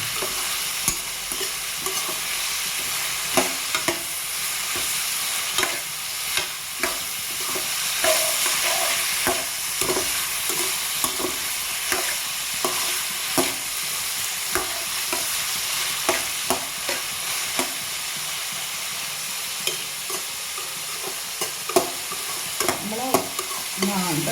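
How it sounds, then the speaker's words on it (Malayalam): Grated coconut roasting in a pan with a little salt, stirred steadily so that regular scraping strokes ride over a constant dry sizzle, close and fairly loud, with no voices. "തേങ്ങ മൂപ്പിക്കാന്നേരം ഇച്ചിരി ഉപ്പിട്ടല്ലോ, ആ ഉപ്പിൻ്റെ മയം കൊണ്ട് ഇത് പെട്ടെന്ന് മൂത്തോളും കേട്ടോ"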